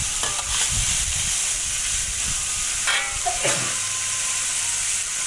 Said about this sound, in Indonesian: toge dulu tumis hingga dia macam lembut sedikit